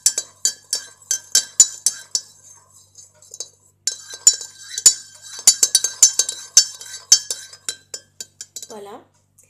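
A spoon stirs milk tisane in a glass or cup, ringing out in rapid, bright clinks that come in close bursts with a brief pause partway, then a short voice near the end.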